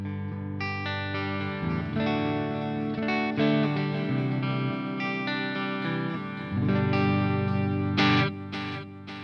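An Enya Nova Go Sonic electric guitar played through a clean amp setting with a delay effect, its notes and chords ringing with echoing repeats, close and clear with no talk.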